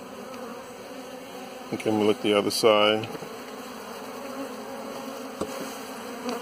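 Honey bees buzz in a continuous, close hum during a beehive inspection, while a person speaks briefly over the swarm.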